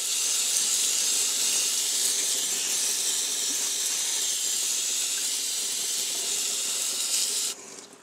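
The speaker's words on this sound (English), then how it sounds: "we're going to take our brake clean, get the oil filter part, anything else that might have been affected by the oil" Brake cleaner sprays in a continuous loud hiss over engine parts around the oil filter, steady and close for several seconds before cutting off abruptly near the end, with no talking.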